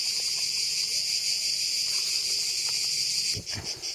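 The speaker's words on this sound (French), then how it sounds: "Le bruit des cigales est difficilement supportable." Cicadas buzz in a loud, unbroken high-pitched drone, with a few soft knocks and rustles near the end.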